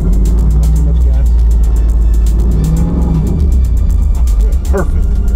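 A Chevrolet Blazer engine gets a light dose of gas as the clutch is let out, a low steady rumble running close and loud throughout, with people talking over it.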